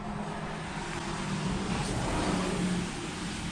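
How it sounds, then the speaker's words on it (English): A steady low hum of road traffic rolls past at a distance, a continuous wash of engine and tire noise with no voices. "I hope you can hear over the traffic going by."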